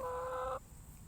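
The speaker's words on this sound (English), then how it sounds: "We've got the big chicken Thor." A big backyard chicken named Thor lets out one short, tonal clucking call, fairly clear and close, that stops abruptly, followed by quiet outdoor background.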